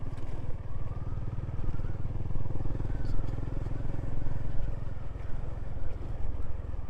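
Honda GB350 motorcycle riding along, its steady single-cylinder engine drone continuous and close throughout with some wind rush, no talk.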